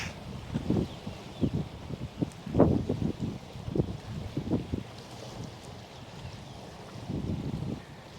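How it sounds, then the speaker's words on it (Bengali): Strong wind gusting beside Kaptai Lake at a lakeside park, heard as loud, buffeting rumbles against the microphone that rise and fall in uneven bursts, with a steady lake-water wash underneath and no talking. "প্রচণ্ড বাতাস।"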